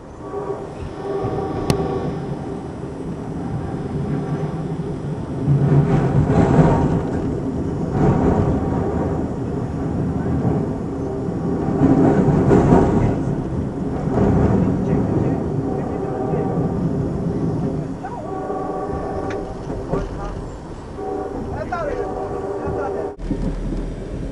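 A train rumbles along steadily crossing the Calcasieu River, with a low, continuous roar rising and falling in waves, the rattle of the cars constant throughout.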